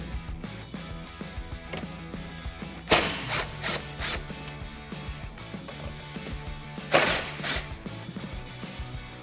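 A T40 Torx socket working the cowl bolts on a Jeep Wrangler JL, with a steady background hum and a few short, loud bursts of ratcheting and scraping metal close by.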